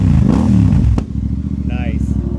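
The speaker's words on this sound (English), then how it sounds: "Pretty good sounding bike, isn't it?" A motorcycle fitted with AEW exhaust pipes rumbles loud and close, a throaty low revving burst that drops to a steady lumpy idle after a sharp clack, with a brief higher tone overhead.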